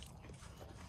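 Biting and crunching into Blue Heat Takis rolled tortilla chips: a brief, close, steady crunch of chewing, faint and alone.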